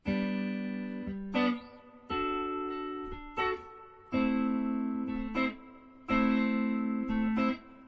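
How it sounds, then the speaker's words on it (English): Guitar triads strummed one after another, each ringing out for about a second before the next, moving through a short chord progression with no voices. "if we run through the first half of that chord progression with just those triads there"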